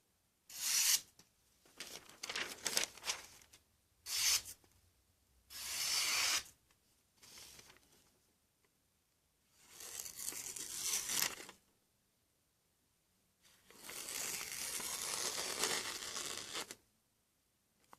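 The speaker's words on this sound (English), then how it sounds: "Let me give you a very quick demo of some cutting" A D2/K110 steel knife blade cutting through material in a quick demo, giving several separate rasping, tearing bursts of varying length with short gaps between them, close and fairly loud, with no talking.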